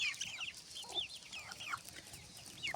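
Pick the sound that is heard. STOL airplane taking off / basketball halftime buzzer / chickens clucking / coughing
chickens clucking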